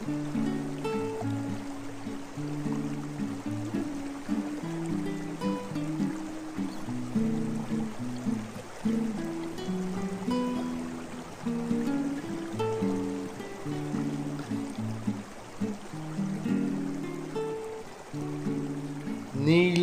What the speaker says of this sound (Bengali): নীল রঙের জল পেরিয়ে এগিয়ে চলেছে আমাদের নৌকো।